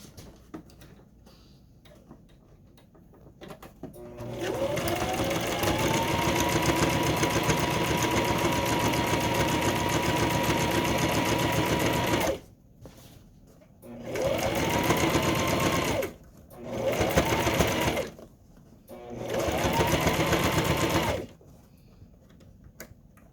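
A sewing machine stitches the last seam of a fabric tote with heavy interfacing, whirring in one long steady run and then several shorter bursts separated by quiet pauses.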